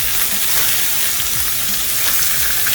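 Beyond Burger plant-based patties frying on medium-high heat in separate pans, a steady, loud, close sizzle with faint crackles throughout and no talk.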